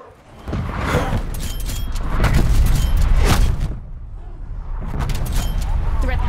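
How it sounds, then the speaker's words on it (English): Artillery strike explosions in Call of Duty Black Ops Cold War: continuous heavy rumbling booms rolling over several seconds, loud and sustained, easing briefly before swelling again, with game voice chatter mixed in. "Calling in artillery."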